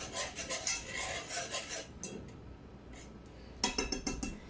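A utensil stirring leftover Brussels sprouts and bacon in a pan, with quick repeated scraping and clinking strokes, close and steady. The stirring pauses briefly mid-way and then resumes in a fast burst.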